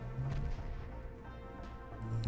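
A torpedo strikes a warship in the naval strategy game Ultimate Admiral: Dreadnoughts, producing a low, rumbling explosion that swells, eases and then swells again over a couple of seconds, with no talk over it.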